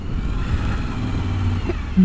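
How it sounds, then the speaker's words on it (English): Suzuki V-Strom 1000 motorcycle on an open road, its engine a loud, continuous low drone that swells into a rising rev at the end, no speech. "that simply means it accelerates insanely fast every time"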